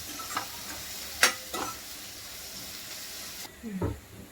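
Onions brown in a pan with a low, continuous sizzle and hiss, broken by a few short scraping stirs near the mic and a muffled clatter at the end; no talking.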